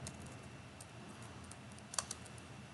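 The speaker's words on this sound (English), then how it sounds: "I'm gonna type sudo" Quiet keyboard typing in a few light taps and a short cluster of keystrokes near the end, faint over a steady room hiss with no talking.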